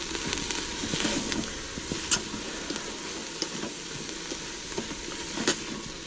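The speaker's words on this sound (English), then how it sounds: "We're going to go ahead and add our mushrooms. Stir that around." Mushrooms and softened onions sizzle and fry in an Instant Pot while being stirred, a steady broadband hiss with occasional soft scrapes and clicks of the utensil, close and moderately loud throughout.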